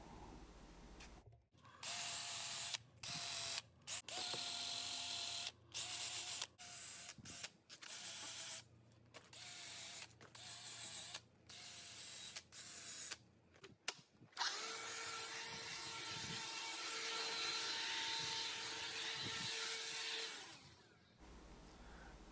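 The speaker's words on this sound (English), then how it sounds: "take your drill with the cupped wire brush and you just go ahead and clean off around the edges" A power drill with a cupped wire brush cleans concrete around the edges of holes in a slab, whirring in repeated short bursts with brief pauses, then running in one long continuous grind before stopping.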